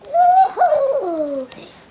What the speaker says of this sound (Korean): 아, 새소리가 진짜 많이 시끄럽네.